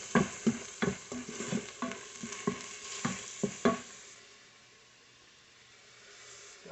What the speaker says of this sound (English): So I'm frying the onions.